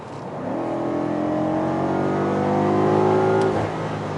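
A 2018 BMW M5 engine revs up in one long, loud rising sweep with a throaty whine, then eases off near the end; no voices.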